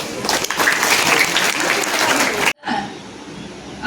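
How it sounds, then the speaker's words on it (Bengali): Students clapping together at a school Yoga Day session, a loud, dense burst of applause that runs for about two and a half seconds, then cuts off abruptly, leaving a quieter room with a brief pickup of sound at the end. "প্রথমে হাততালি"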